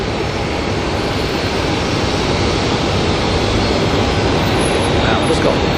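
A small Cessna Caravan approaching Auckland Airport, its engine a steady broadband drone that holds evenly throughout, heard from outdoors at a distance.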